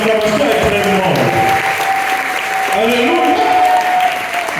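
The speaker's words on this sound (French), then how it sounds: "Acclame Jésus. Oh, ton acclamation est très grande." A church congregation claps in sustained, dense applause and cheers during a worship service, with voices and a held musical tone running beneath.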